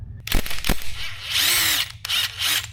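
Chain breaker tool pressing a rivet out of a Yamaha R6 motorcycle chain, a close whirring, grinding mechanical noise broken by a few sharp clicks and brief pauses.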